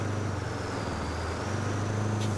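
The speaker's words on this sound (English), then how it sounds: "I don't know what they've done with the truck sounds." Truck engine in the video game Roadcraft, a steady low droning rumble holding evenly throughout at moderate level with no talk over it.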